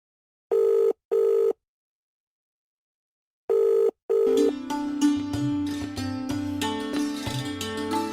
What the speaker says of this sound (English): Ever noticed the mobile phone vibrating when it rings?